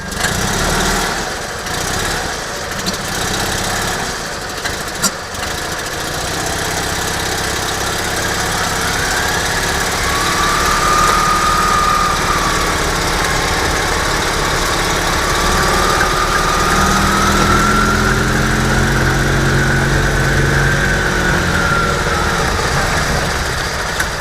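A small Invacar invalid carriage engine revs up under more throttle, a steady, loud mechanical drone with rising and falling pitch as the car pulls away, continuous throughout with no talk.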